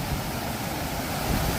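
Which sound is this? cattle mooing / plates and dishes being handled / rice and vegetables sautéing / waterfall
waterfall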